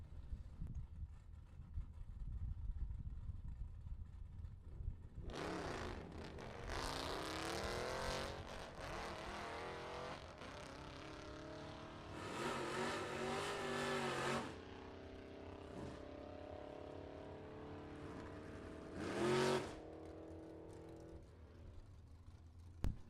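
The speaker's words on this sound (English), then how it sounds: "Williams on the right-hand side out of Belvedere, Illinois, the 2012 Dodge Challenger. Carpenter out of Algonquin, Illinois, 2002 Z28 Chevrolet Camaro" A 2012 Dodge Challenger and a 2002 Chevrolet Camaro Z28 in a drag race, with a steady engine drone building into several loud bursts of revving and passing roar, fairly close, with no talk.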